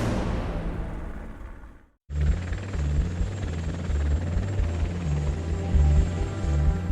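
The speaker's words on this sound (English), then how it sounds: "A brand new Apache hovers in a routine training practice." A brand-new AH-64 Apache helicopter hovers during a training flight, its rotor throbbing in a steady low pulse under a constant turbine whine after a brief cut.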